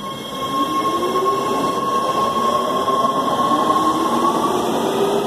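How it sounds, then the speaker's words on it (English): A Metro Red Line subway train passes through Universal City Station, a loud continuous rumble with a steady high-pitched whine and tonal hum, close and sustained throughout. "There goes the train."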